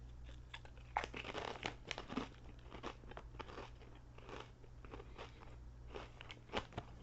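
Close, crisp crunching and chewing of Samyang Buldak spicy potato chips, a steady run of loud bites and crackly munching with no talking, over a faint low hum.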